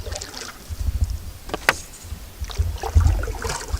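Paddle strokes from a small boat crossing a lake in calm, good conditions, soft rhythmic splashes and water swirls every second or so close by, with light wind noise on the microphone.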